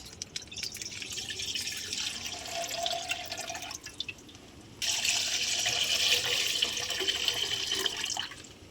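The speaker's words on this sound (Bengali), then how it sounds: "দিয়ে আমরা দুধটা ঢেলে দিচ্ছি।" Packet milk pours steadily into a cooking pot for a mango sandesh, a soft liquid splash that pauses briefly and then resumes louder and fuller.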